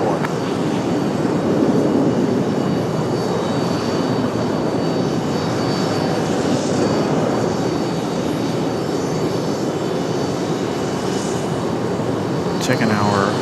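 A Southwest airliner taking off from runway 5 right at Raleigh-Durham International produces a loud, continuous jet engine roar throughout, with steady rumble and a faint high whine.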